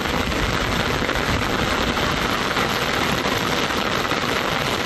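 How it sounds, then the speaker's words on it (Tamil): Heavy rain pours steadily over a hill village in Kodaikanal, a dense, even broadband hiss that stays loud and close throughout without any voices. "கொடைக்கானலில் மேல்மலை கிராமங்களில் 1 மணி நேரத்திற்கு மேலாக பெய்த கனமழையால் குளுமையான"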